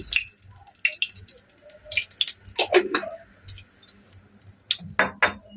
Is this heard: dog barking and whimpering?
no